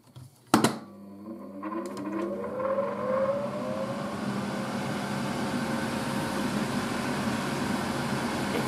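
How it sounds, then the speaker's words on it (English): A 1980s Tefal Spinmaster spin dryer spinning empty: a sharp click and clunk as it starts, then the motor whines up quickly in rising pitch and settles into a steady loud hum with airy rushing. "I'm gonna just show you how the motor sounds on this thing."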